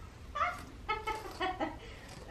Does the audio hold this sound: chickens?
yes